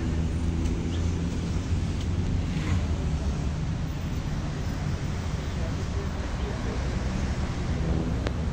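A water fountain splashes beside a pool at the Salvador del Mundo monument in San Salvador, heard as a steady, close rush of falling water mixed with wind noise.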